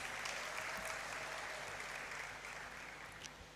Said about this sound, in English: Clap for yourself for doing this.